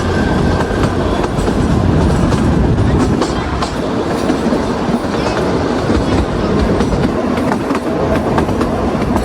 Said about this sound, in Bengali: 25 কিলোমিটার পার আওয়ার স্পিডে কিন্তু চলে এই কালকা সিমলা টয় ট্রেন।